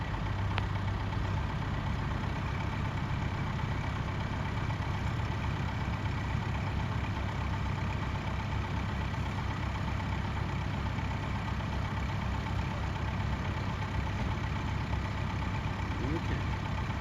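A tractor engine idles steadily, a continuous mid-low rumble with even texture held for the whole stretch, fairly close, with a faint voice now and then underneath.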